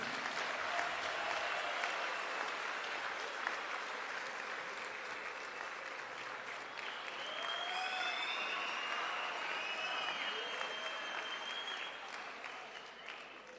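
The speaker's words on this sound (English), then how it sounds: "give a round of applause to President Zuma for having founded Umkhonto Wesizwe Party" Sustained crowd applause fills a political gathering honoring President Zuma of the Umkhonto Wesizwe Party, a dense even roar of many hands clapping with faint cheers, steady throughout and slowly easing toward the end.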